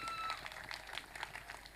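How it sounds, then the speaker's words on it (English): A school audience clapping for the head teacher at a competition event, fairly faint scattered applause heard from a distance with some background noise. "Can we clap for the head teacher for the good organization?"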